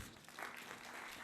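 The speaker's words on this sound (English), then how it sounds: "please give him a big round of applause" A short burst of conference audience applause, a dense, fairly quiet wash of clapping that stays steady through the brief moment.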